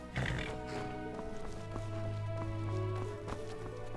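Horse hooves clop in a stable in the video game Skyrim, a soft, uneven run of thuds under a low sustained tone, some distance off and fairly quiet.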